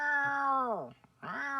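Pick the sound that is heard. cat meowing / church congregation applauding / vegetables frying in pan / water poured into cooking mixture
cat meowing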